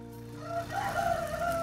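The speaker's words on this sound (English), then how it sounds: "I have chickens in a caravan, a chicken caravan" Chickens in a farm caravan cluck softly and intermittently, fairly quiet, over a faint low background hum.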